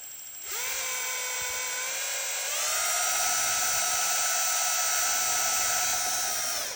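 A small electric drill with a small bit whines steadily at high pitch while drilling a Ford Raptor steering wheel part, its tone stepping up once as it speeds up, running continuously before cutting off.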